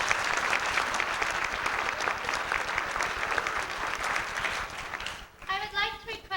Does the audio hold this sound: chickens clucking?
no